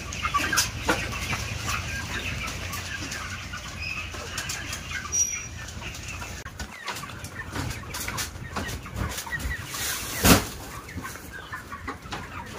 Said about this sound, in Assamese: এইকেইটা অকণমান লেম্বাৰ্ট চৰাই।